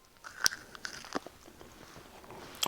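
Several crisp bites and crunches into a Reese's peanut butter cup, chocolate over peanut butter, sharp and close with short pauses between, followed by softer chewing and a final loud crunch.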